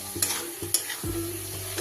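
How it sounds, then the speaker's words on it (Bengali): Fried potato pieces are stirred into spices in a hot pan, with a steady sizzle of frying and a few sharp scrapes of the spoon against the pan over a couple of seconds. "খুব ভালো করে মশলার সাথে মিশিয়ে নেব।"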